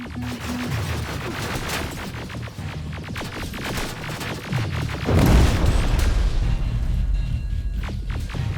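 Booming gunfire and explosions from the video game Terminator: Resistance, a dense, continuous barrage of thuds and bursts over a low rumbling hum that swells louder partway through.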